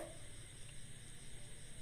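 Chicken pieces frying with ginger and spices in a pan for chicken chana masala, giving a soft, steady, continuous sizzle that stays low and even throughout with no talking.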